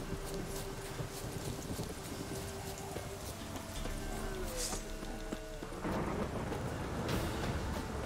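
Rain hisses steadily in The Witcher 3: Hearts of Stone, with low thunder rumbling beneath and a brief rhythmic clatter of hooves midway, the storm intensifying toward the end.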